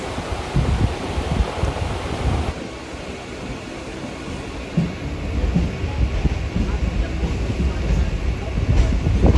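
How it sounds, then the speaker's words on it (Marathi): Continuous rumbling roar of a moving train heading to Shahad, with wind buffeting and rattling, steady and fairly loud, with faint voices underneath. "ट्रेन चाललेली आहे"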